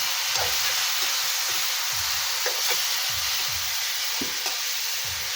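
Mushrooms fry in a pan with browned onions, giving a loud, continuous close sizzle with a hissing edge. Low scraping stirs repeat about every half second, and no one speaks.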